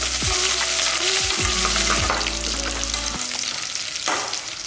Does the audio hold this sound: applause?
no